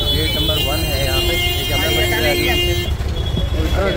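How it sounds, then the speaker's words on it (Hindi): Busy roadway traffic in front of Gate 1 of Jama Masjid in Delhi, with engines rumbling and several horn toots sounding close by, while someone talks over the din. "कितना ज़्यादा रश है दिल्ली जामा मस्जिद के सामने"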